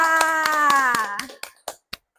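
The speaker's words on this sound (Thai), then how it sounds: "ปรบมือให้แม่แดงหน่อยค่ะ" Hand claps during a Thai lower-secondary health class on food energy: a sustained voice with light taps gives way to three sharp, separate claps in a quiet room.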